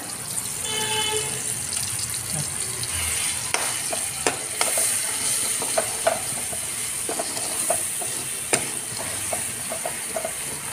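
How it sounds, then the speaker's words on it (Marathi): Turmeric and coriander powder sauté in hot oil for a cauliflower curry, giving a loud, continuous sizzle broken by repeated sharp clicks of a spoon stirring in the pan. "आता हे सगळं तेलामध्ये छान परतू द्यायचं"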